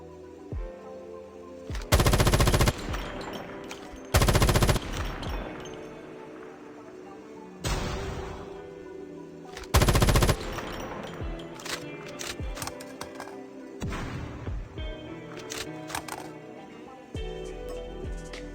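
Call of Duty Mobile gunfire comes in several loud, dense bursts of shooting separated by quieter game sounds and scattered clicks, with no talking.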